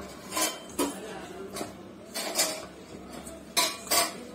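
Spiced, red-coated potato fingers get mixed by hand in a bowl, producing a steady series of soft rhythmic clinks and scrapes against the bowl at close range with no talk.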